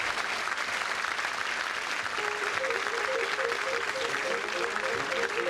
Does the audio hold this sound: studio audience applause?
yes